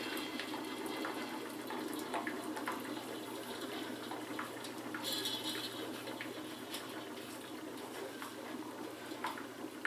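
A Mityvac extractor draws oil out of a Cabela's Outdoorsman 3800/4750-watt generator, giving a continuous faint rushing, gurgling flow of liquid that holds steady for the whole stretch, with no one speaking.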